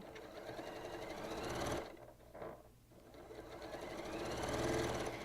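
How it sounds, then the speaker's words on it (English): A sewing machine stitches a long quilt seam with a quarter-inch allowance, running in a fast steady whir, pausing briefly midway, then starting up again and continuing at full speed. "sew that long seam with a 1/4 inch seam allowance"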